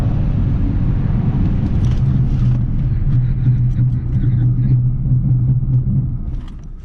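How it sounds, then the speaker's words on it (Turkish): A 2013 VW Golf 7 1.6 TDI highline with manual gearbox and old tyres braking hard from 150 km/h, heard from inside as a steady loud road and engine rumble with a tonal drone that fades as the car slows. "Şimdi bir de 150'den fren testi yapacağım."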